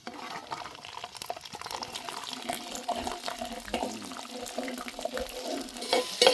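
Oil sizzles and crackles as mustard seeds, fenugreek and garlic fry, with occasional stirring scrapes, close and moderately loud.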